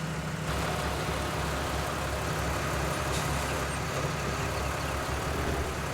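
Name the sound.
tractor engine, Farming Simulator 19 video game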